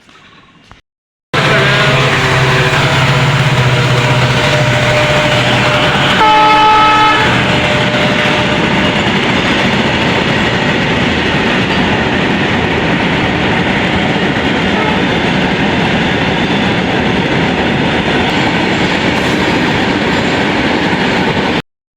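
A train rolls through Ambari railway station, its loud, steady rumble starting abruptly and continuing throughout, with a brief horn toot early on.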